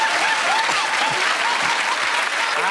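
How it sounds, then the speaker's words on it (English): Studio audience applause on a British comedy panel show, a steady, loud wash of clapping from a large crowd sustained evenly from start to finish. "that round of applause is going to end"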